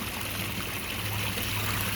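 A small urn fountain pumps water into a pond bog, giving a steady, close trickle and light gurgle that runs unbroken throughout, with a low hum underneath.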